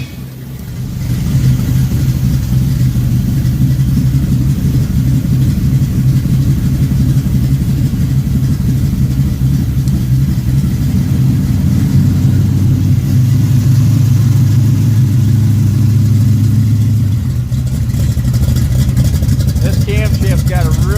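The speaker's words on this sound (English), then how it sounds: "let's go ahead and fire it up" Pontiac 1967 GTO with a 400 engine and hydraulic flat-tappet camshaft fires up and settles into a loud, steady, lumpy idle close by, holding for about twenty seconds.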